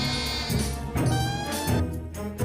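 A magical goat in a Hindi cartoon fairy tale bleats in a long, wavering, nasal cry that rises and falls in loud, close bursts with no talking.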